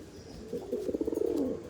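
A pigeon gives one soft, throaty coo that rises into a rapid warbling roll, close but quiet, with no talking over it.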